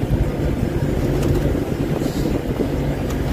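A vehicle driven fast up a rough, bumpy mountain road to a tea estate in Kolukkumalai, with a loud, steady engine drone and constant rattling and jolting throughout, no talk.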